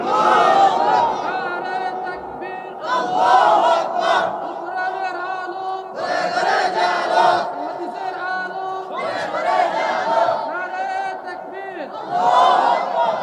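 A large crowd at a religious sermon shouts the takbir response, with loud massed voices rising in repeated surges and short lulls between them.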